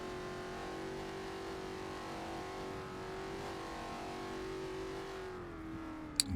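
A B-Class race car in a Forza race on the Bernese Alps track drones at steady high revs, its engine note holding level and then dipping slightly near the end, loud and close throughout.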